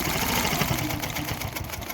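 A Handi Quilter Fusion longarm quilting machine stitching during couching work: a loud, steady, rapid mechanical whir and chatter, close up, with no talking.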